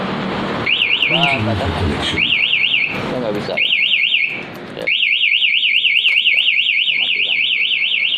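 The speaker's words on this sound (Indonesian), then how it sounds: "maka alarm ini tetap akan berbunyi keras" A loud warbling motorcycle anti-theft alarm on a Honda Vario LED wails in repeated rising-falling cycles, close by, with brief interruptions and someone speaking Indonesian over it.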